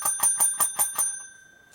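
A bright bell chimes six quick, evenly spaced strikes, each one ringing clear and metallic before the tone slowly fades into silence.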